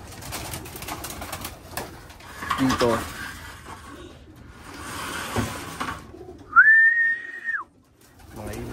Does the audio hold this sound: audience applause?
no